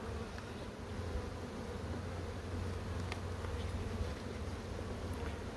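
Bright yellow honey bees at a strong hive make a dense, continuous buzzing hum, close and even throughout, with no voices.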